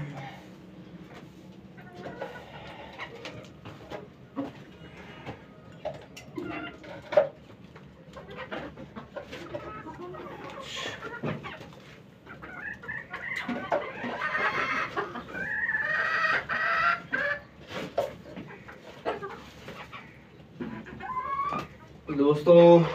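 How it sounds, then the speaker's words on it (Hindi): Hens cluck on a poultry farm during the morning egg collection while they settle down to lay. The clucks are intermittent and moderately close, with background noise and some talk around them. "आप देख सकते हैं मुर्गियां जो है अंडे देने के लिए अभी बैठ रही हैं।"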